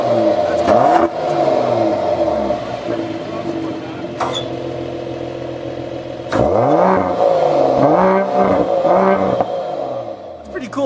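Mercedes-AMG GLE 53 Coupe with a straight-six engine and quad exhaust tips, set to quiet mode: a short sharp revving blip, then a lull, then a cluster of loud rising and falling revs with the exhaust valve opening.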